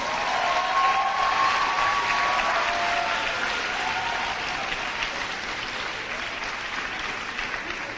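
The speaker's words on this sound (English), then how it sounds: "Would you like to give them another round of applause?" An audience at an 8th grade graduation ceremony applauds with sustained, dense clapping that fades slightly over several seconds, with a brief whistle near the start.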